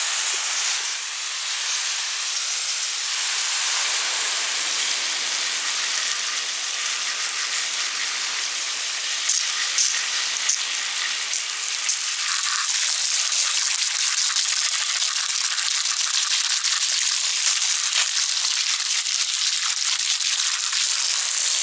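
Water sprayed over a Sunblesa Bivvy Lite fishing light during a water test, giving a steady, close, loud spray hiss that runs the whole time with no talking.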